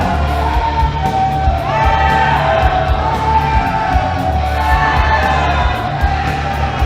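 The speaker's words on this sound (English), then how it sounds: "the crowd is going, absolutely, and the crowd is just fired up" At an indie wrestling event, a loud arena crowd cheers, whoops and yells steadily throughout, with a dense roar of many voices.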